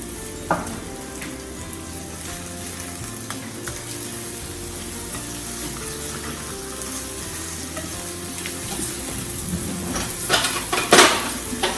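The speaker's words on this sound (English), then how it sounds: "Now that we have our patties in our pan, we're gonna flip them." Beef patties for Salisbury steak sizzle steadily in a pan, a continuous close frying hiss with occasional scrapes and clinks of a fork or utensil, louder crackles near the end.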